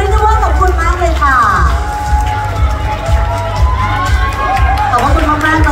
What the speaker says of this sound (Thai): ขอเสียงปรบมือดังๆให้กับผู้ใหญ่ใจดีทั้งโลตัสและยูรินิเวอร์